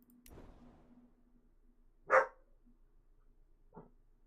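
A dog gives two short barks a couple of seconds apart, the first louder and the second fainter, against an otherwise quiet background.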